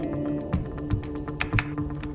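Computer keyboard keys are pressed in a quick irregular series of soft clicks and taps, close and fairly quiet, with no talking.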